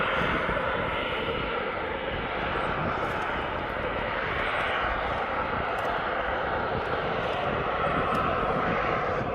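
A fixed-wing aircraft at East Midlands Airport taxiing round toward runway 9 gives a steady, loud engine roar and broadband rumble that holds throughout without a break.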